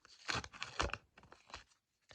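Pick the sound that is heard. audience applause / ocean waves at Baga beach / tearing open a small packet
tearing open a small packet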